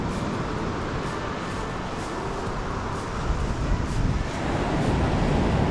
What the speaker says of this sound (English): I'm shouting because it's very loud down here with the waves